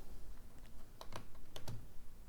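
Computer keyboard typing in a quiet room, a few clustered keystrokes and clicks with gaps between them, close and fairly soft, with no talk.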